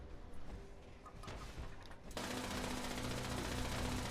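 Automated turret gunfire in the Fallout 76 video game, a dense sustained burst of rapid shots that kicks in loudly halfway through after quieter, scattered game ambience.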